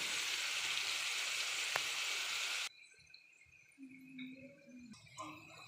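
Vegetables sizzle in hot oil in a pan for fried rice, a loud, steady broadband hiss that cuts off abruptly partway, followed by quieter clinks and light kitchen sounds.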